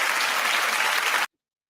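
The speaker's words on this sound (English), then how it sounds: "Clap if you think that they need to say something." Audience applause from a studio crowd during a talk segment, a dense steady wash of many hands clapping that cuts off abruptly after about a second.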